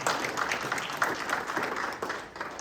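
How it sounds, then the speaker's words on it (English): Applause from the audience at a county GOP meet and greet in Logan, Iowa, a steady wash of clapping from a modest indoor crowd that tapers slightly toward the end. "I want to give that man a round of applause for standing up"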